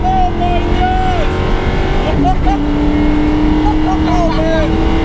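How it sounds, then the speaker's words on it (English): A car engine, running after having started knocking, roars hard through a first-gear pull, loud and close with rising, shifting pitch, while excited voices talk over it. "First gear pull."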